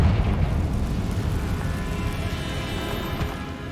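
A Confringo fire spell explodes in the video game Hogwarts Legacy, a deep rumbling boom that swells at once and rolls on as a sustained fiery roar, loud and alone without speech.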